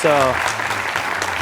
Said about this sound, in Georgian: აპლოდისმენტები დავუკრათ გუნდ ტრუბადურს